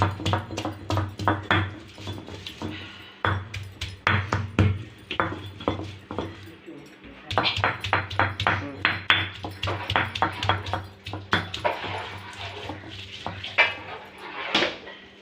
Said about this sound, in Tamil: இப்போ இந்த அளவுக்கு அரைச்சா போதும் இப்படி ஒன்றா ரெண்டாக அரைச்சி எடுத்துக்கணும்